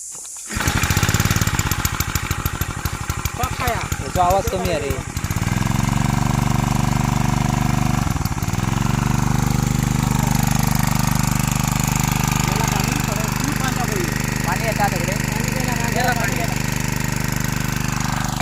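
Two fishing boat engines start and run at a loud, steady low drone, with a harsh rattling burst at the start and a brief dip in the middle, close by and continuous.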